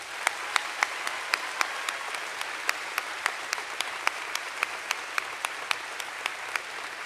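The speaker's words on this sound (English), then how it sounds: "Please give them a round of applause." Applause for students at a high school veterans assembly, a fairly quiet, steady wash of clapping from a distant crowd with a few sharper nearby claps standing out at regular intervals.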